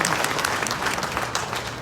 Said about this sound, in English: go ahead and applaud her, it's her night